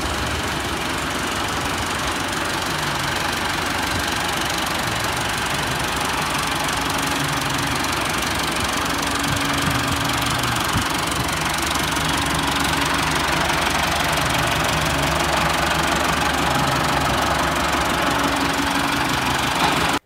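Massey Ferguson 385 Deluxe farm tractor engine idling steadily for the whole stretch, a close, continuous low diesel chug with a faint knocking rhythm and no pauses.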